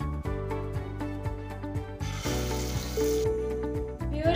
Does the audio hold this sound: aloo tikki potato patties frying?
yes